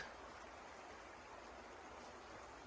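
A babbling brook flowing past a campsite at Earl Rowe, heard as a steady, close rush of running water that holds even and unbroken throughout with no voices.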